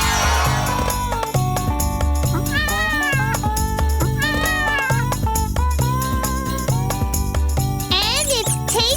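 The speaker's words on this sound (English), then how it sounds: "Look! It's a cat!" Repeated high meows ride over a bouncy, jingly children's tune with steady beat, the cat calls rising and falling several times.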